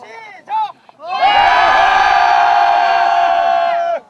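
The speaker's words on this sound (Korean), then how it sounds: "황 신부와 아이들은 하루를 마감하는 힘찬 함성으로 감자밭에서의 둘째 날을 마무리했다" Priest and children giving a loud, sustained group cheer in an open potato field, a few short shouts first, then a big unified roar of voices held for about three seconds before cutting off.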